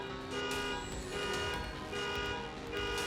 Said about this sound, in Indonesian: Alarm mobil langsung berbunyi setelah spion mobil ditarik paksa 2 pencuri